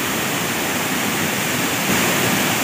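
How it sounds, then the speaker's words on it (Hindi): Sanaghagara waterfall in Keonjhar, Odisha, pours with a loud, dense, unbroken rushing roar filling the whole scene. "मस्त झरना।"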